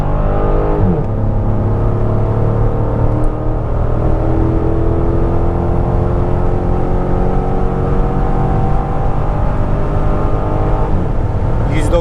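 Chrysler 300C 6.1 SRT8 V8 engine under hard acceleration, rising steadily in pitch with a gear change near the start and another near the end, loud and continuous from inside the car.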